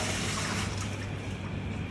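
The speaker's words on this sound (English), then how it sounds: "I'm just going to rinse it all out, fill it up with water." Water running steadily from a tap into a container being filled and rinsed out after scrubbing, a continuous close splashing rush with a low hum throughout.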